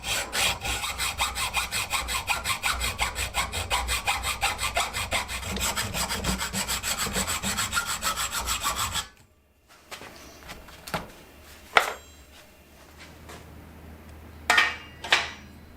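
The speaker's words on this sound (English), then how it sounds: "I can trim the dropout end of the chainstays. And believe it or not, I actually do use a hacksaw from time to time" A hacksaw trims the dropout end of a steel bicycle chainstay in fast, even back-and-forth strokes for about nine seconds, then stops, leaving a few scattered clinks and handling noises.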